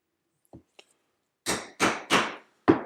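A stitching chisel is struck with a mallet to punch stitch holes in wallet leather, two faint light taps followed by four loud, sharp, close blows in uneven rhythm.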